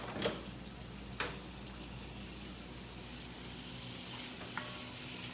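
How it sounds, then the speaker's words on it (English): Butter melting in a pan for a roux, a soft, steady sizzle with a few light clicks and taps, faint and close. "So I'm adding the butter."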